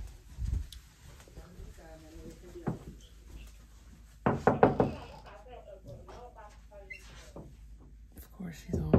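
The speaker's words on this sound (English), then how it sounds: "I'm finna knock on her door." Knocking on a bedroom door at home: a short cluster of sharp raps midway through, set against quiet room noise and some talking.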